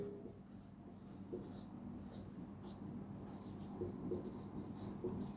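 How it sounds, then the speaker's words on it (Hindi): Marker or chalk scratching across a board in bursts of short strokes, close and steady, with a low room hum beneath and no talking. "यहाँ मैं लिख देता हूँ।"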